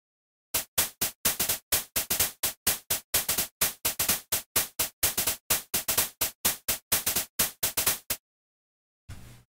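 Rapid, regular bursts of bright, gritty synth hi-hat hits made with Thor in Reason, punchy and distorted by tape saturation, playing alone in a steady rhythm before stopping, then a short final burst.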